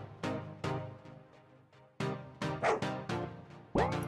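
A game dog named Gin gives a run of short, sharp barks and yips at a steady pace, loud and close, with a small whimper among them.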